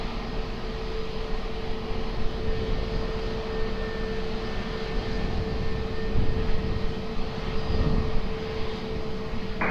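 A British Airways Speedbird jet landing on runway 20 at Lisbon Airport, its engine roar steady and broad, swelling slightly toward the end, heard from a moderate distance with no voices.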